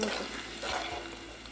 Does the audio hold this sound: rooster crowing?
no